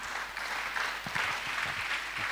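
A church congregation at a Friday night prayer vigil in Abidjan applauds, sustained mid-distance clapping from many hands that fills the room without a pause.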